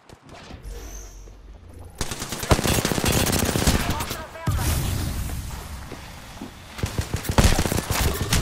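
Apex Legends gunfire, loud automatic bursts crackling in quick succession after a short quiet lead-in, with sharp shots and booms layered across the fight.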